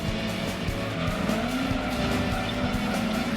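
Racing-game cars in a Pokémon-themed driving game roar together with continuous engine drone and repeated sharp tire squeals and skids, loud and without talk.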